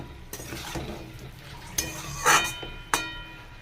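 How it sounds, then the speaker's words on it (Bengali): Tomato and bitter gourd go into a dried fish curry in a pan. A short burst of frying sizzle is heard alongside stirring and light clinks of a utensil against the pot. "টমেটো আর উচ্ছে দিলাম।"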